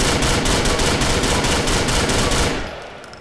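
Rapid, loud bursts of automatic fire from an MP5 submachine gun in the game GTA IV run in an even, fast rhythm for about two and a half seconds, then cut off and fade into a short tail.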